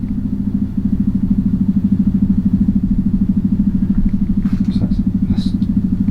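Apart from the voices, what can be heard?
motorbike passing outside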